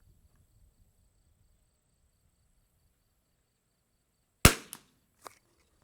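A CZ 457 rifle with a Shilen barrel in an MDT XRS chassis fires Eley Tenex ammunition outdoors: one sharp, loud crack breaks the near silence and is followed by two brief smaller clicks, with faint insects in the background.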